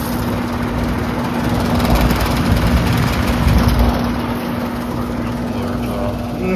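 A Heil Performance 1.5 ton air conditioner condenser runs with a steady, loud whirring drone and a constant low hum, holding an even level throughout.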